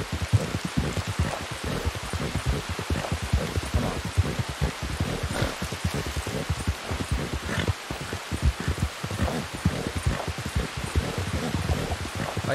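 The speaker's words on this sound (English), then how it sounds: "Is the rain almost over?" Steady, dense rainfall patters continuously throughout in the video game Red Dead Redemption 2, a loud, even wash of drops with no voices.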